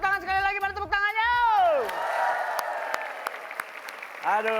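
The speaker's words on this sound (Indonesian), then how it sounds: "tepuk tangan sekali lagi, mana tepuk tangannya?" A studio audience at an Indonesian TV variety show claps and cheers after a host's drawn-out shout, the applause rolling on steadily with scattered sharp claps and a voice returning at the end.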